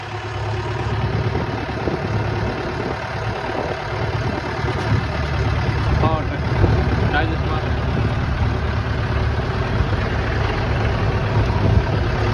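An old tractor, around a model-eight year, idles in a farm field with a steady low rumbling drone that stays close and even throughout, while people talk over it at times.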